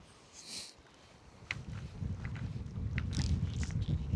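Strong wind blowing across an open reservoir shore during a fly-fishing trip, a steady low rumble of buffeting gusts that grows louder and denser over a few seconds, with faint scattered higher rustles and no speech.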